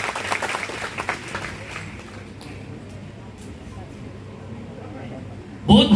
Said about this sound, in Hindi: जोरदार तालियां से धन्यवाद